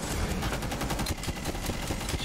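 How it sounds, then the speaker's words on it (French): Tachanka's mounted machine gun fires in Rainbow Six Siege, a loud, sustained rapid burst of evenly spaced shots running steadily throughout. "Sa mitrailleuse."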